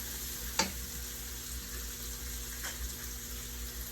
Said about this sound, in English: Anything you want to add, feel free to stir fry them.